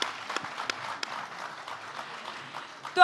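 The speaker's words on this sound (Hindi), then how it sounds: "जोरदार तालियां एक बार हो" Applause from an audience at a poetry and shayari gathering, soft and fairly distant, with scattered louder claps running under a low murmur before a voice cuts in at the end.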